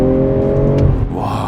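A BMW M340i in Sport Plus mode revs hard toward high RPM, a loud close engine drone from inside the car with no talk.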